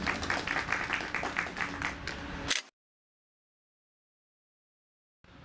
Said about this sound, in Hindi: कोशिश में कामयाब हुए हैं महिपाल, इसलिए इनके लिए जोरदार तालियां बजा दीजिए